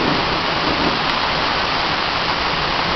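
Heavy rain pours down during a thunderstorm in London, a dense, loud, unbroken hiss of rainfall with no thunder claps or voices.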